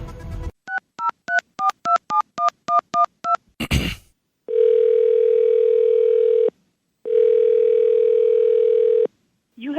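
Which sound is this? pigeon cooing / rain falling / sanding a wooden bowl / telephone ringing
telephone ringing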